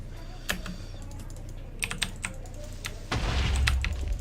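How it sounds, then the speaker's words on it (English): Sharp clicks of a loud computer keyboard being typed on in irregular bursts, close up, with a low rumbling background swelling near the end. "Sorry about the loud keyboard!"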